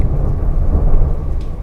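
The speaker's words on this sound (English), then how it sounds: "As you can hear, it's raining and thundering." Heavy rain pours steadily under a deep, loud roll of thunder, a dense low rumble that fills the whole stretch with no break.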